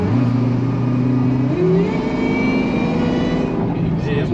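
A new 426 Hemi car's exhaust rumbles steadily up close with a low, continuous drone and a brief pitch shift midway, while people talk over it.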